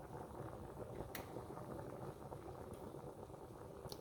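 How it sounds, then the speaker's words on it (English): Water boiling hard in a pot on a kitchen stove, a steady dense bubbling roar that runs without a break, close by and fairly quiet, with a few faint clicks on top. "it's really going to town with these bubbles now."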